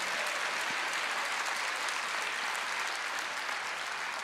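A congregation at a church service gives dense, sustained applause that stays even from start to finish, with no voices standing out above it.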